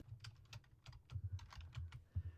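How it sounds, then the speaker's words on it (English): Keys clatter on a computer keyboard in a quiet room as a word is typed into a desktop search bar, a quick run of light clicks with short pauses between bursts, close and clear with no talking. "at the top up here in this little search bar, I'm going to type Settings."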